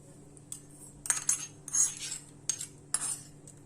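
A spoon clinks against a bowl while stirring appe batter, giving several light, bright metallic taps and scrapes in irregular bursts over a quiet background.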